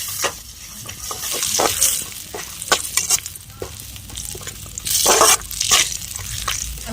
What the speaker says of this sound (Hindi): तो कढ़ाई में हमने डाल दिया और थोड़ा चला लेते हैं इस तरह से, ताकि ये अच्छे से फ्राई हो जाए तेल में।